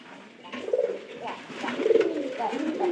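Pigeons coo repeatedly in low, rolling calls, close and steady across the whole stretch, with no talking over them.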